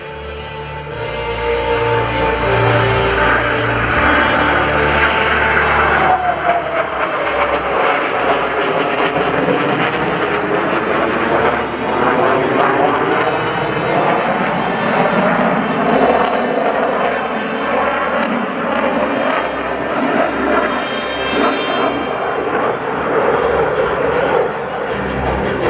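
F-22 Raptor and T-38 jets make a formation flyby at a Hampton Roads air show, a loud sustained engine roar that swells and sweeps across with a falling pitch, then rumbles on for many seconds.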